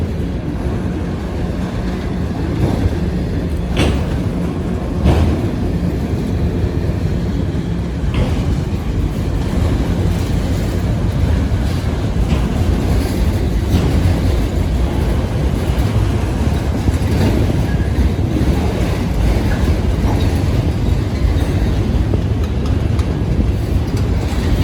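A street-running freight train climbs uphill with a lead locomotive, giving a loud, steady, continuous rumble and grinding roar that fills the whole stretch, with a few sharper clanks and no talking.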